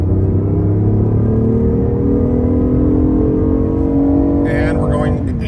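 A BMW i8 with a small-displacement gas engine accelerates hard in sport mode, giving a loud, throaty, steadily rising engine drone from inside the car. A voice talks over it.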